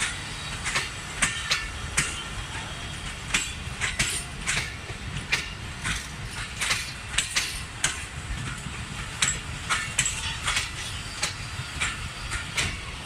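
Trains at Bahawalpur railway station in Pakistan: a steady rumble and hiss with repeated sharp clicks and clanks throughout, the busy platform ambience fairly loud with no talk.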